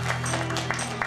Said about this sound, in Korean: 박수 힘차게 주시기 바랍니다.